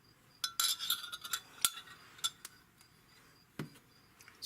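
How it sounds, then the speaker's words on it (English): A spoon clinks against a bowl while stirring honey garlic shrimp marinade, giving several light, irregular metallic taps and scrapes close by, with one soft thud near the end. "I'm just going to give it a stir just in case I had any honey or anything I didn't stir in"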